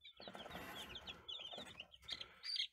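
Young chickens, among them a probable rooster, cluck and peep in short bursts at close range on a homestead, faint and uneven with brief gaps.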